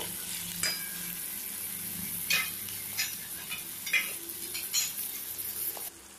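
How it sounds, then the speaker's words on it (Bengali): Onion, deseeded tomato and slit green chillies fry in a pan, a gentle steady sizzle broken by several spatula scrapes and clinks against the pan. "এবার এটা কিছুক্ষণ একটুখানি ভেজে নেব"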